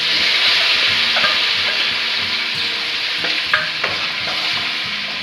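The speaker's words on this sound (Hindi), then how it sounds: "मसाला को 2 मिनट पकाएंगे।" Spice masala of ground coriander and red chilli fries steadily in a pan, a dense continuous sizzle with faint scrapes of stirring running through it, close and fairly loud with no voices.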